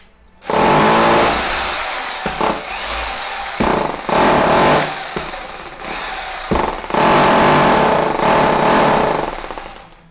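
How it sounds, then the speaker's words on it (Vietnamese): A Bosch drill run in hammer mode for concrete drilling, its older chuck a little stiff: loud, harsh, rattling bursts of hammering start and stop in quick succession, about five runs separated by brief pauses. "Chức năng khoan thường, chức năng khoan bê tông này nè."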